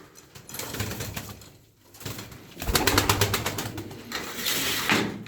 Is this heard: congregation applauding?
no